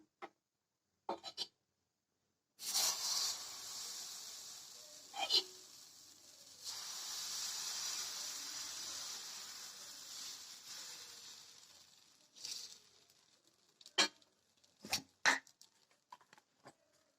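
Wheat adai batter cooks on a hot dosa griddle with a long, soft hiss of frying that fades in and out, broken by a few sharp clatters and taps near the start and end.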